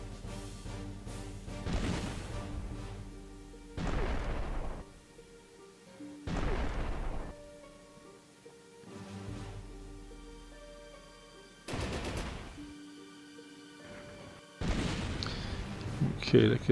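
Heavy artillery fire in a North Africa tank battle video game, a series of loud booming blasts roughly every two to three seconds, each rolling out with a long decay over a steady background of game ambience.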